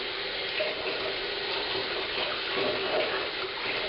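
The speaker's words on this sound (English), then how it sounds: "Just a little bit more warm water." Warm water pours steadily into a bucket for a lime sulphur cat dip in a continuous hissing stream, close and moderately loud, with no pauses.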